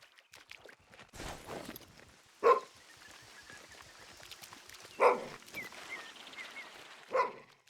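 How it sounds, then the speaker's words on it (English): A dog barking in theHunter: Call of the Wild, three single barks a couple of seconds apart, moderately close, over faint rustling footsteps and no voices. "He's still just barking."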